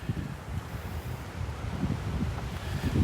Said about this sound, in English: that wind's coming almost directly straight out of the north this morning.